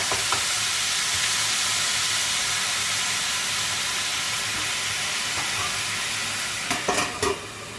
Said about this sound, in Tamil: நம்ம லோ ஃப்ளேமில் வச்சு மூடி போட்டுக்கலாம்.